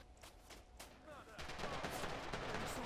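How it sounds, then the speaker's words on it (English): Gunfire in the video game Red Orchestra 2, with a few sharp shots early on giving way to dense, sustained automatic fire and bursts that grow louder and fill the second half. "Oh, being shot at."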